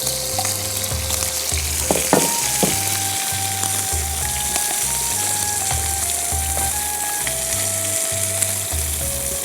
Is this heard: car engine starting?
no